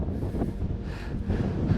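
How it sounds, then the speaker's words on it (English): Strong wind gusting across an exposed mountain trail, roaring and buffeting close against the microphone in steady low rumbling waves with no talk. "The wind is so strong."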